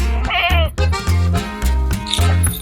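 A goat bleats repeatedly up close, several loud wavering cries in quick succession.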